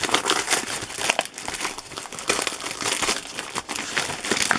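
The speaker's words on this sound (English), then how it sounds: "I'm just going to rip it." Tape-covered paper being ripped off a vintage book cover, heard as close, continuous crinkling and tearing that goes on throughout.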